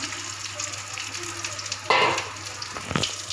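Water poured into a hot pan of teasel gourd cooking with prawns, a sudden burst of loud sizzling and bubbling over a quiet background frying hiss, followed by a second brief splash.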